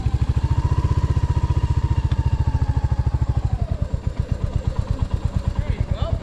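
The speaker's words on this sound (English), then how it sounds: "bring up some revs, bring up some power" A motorcycle engine on a training course, its pulsing low exhaust beat rising and steadying as revs build, close and fairly loud, with brief talk mixed in.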